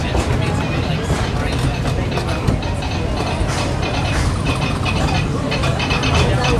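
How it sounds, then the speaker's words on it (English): A steam train on the Disneyland Railroad rolls along with a steady rattling clatter and rumble, while people talk over it throughout. "welcome aboard the Disneyland Railroad"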